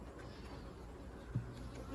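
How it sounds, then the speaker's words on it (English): Honey bees on a hive's inner cover hum softly in a low, continuous buzz, faint and close, with a slight flutter partway through. "there's a lot of bees on that inner cover."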